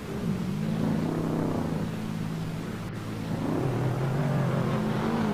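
Drift cars revving in a virtual drift racing game, a Toyota Supra and a BMW, with a steady engine drone rising and falling in pitch as the throttle swells, loud and continuous throughout.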